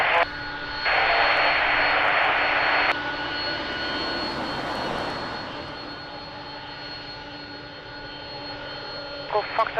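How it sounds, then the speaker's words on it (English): A Delta Air Lines Boeing 767 jet at Lisbon Airport gives a steady engine roar that holds through the whole stretch. A brief hissing burst sits near the start, an air traffic radio voice is heard, and sharp clicks come at the end. "Beautiful 767 Delta Airlines."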